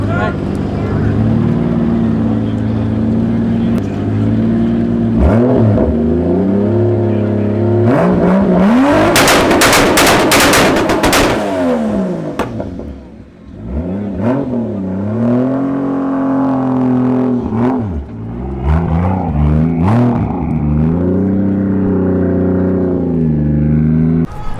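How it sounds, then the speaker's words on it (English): A 2JZ-powered Ford Mustang, turbocharged at around 30 psi of boost, roars on a Superflow dyno, the engine revving hard and loud through a long pull before easing off and climbing again, with close, continuous, overpowering exhaust noise. "the Mustang made 585 horsepower at like 30 pounds of boost, and that is on a Superflow dyno"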